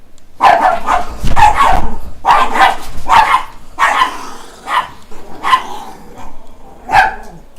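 A pet dog barking close by, a run of about nine loud, sharp barks in uneven bursts with short pauses, some doubled, the last few a little more spaced out.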